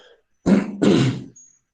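Two quick, rough throat-clearing bursts from a phlegmy throat close to the microphone, the second slightly longer, then silence.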